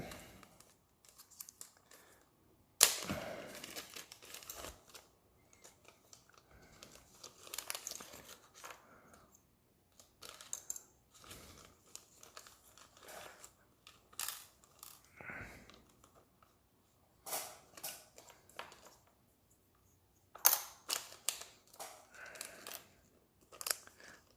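A small RC car gyro is unwrapped from its plastic packet and assembled, with quiet, intermittent crinkling, rustling and small clicks and snips of handling parts at close range. No one speaks.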